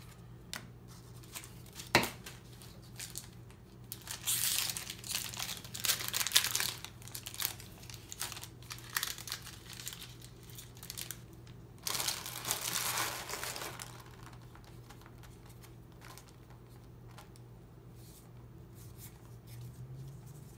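A Magic trading card booster pack wrapper is torn open and crinkled up close in a quiet room, with several bursts of crinkling plastic foil.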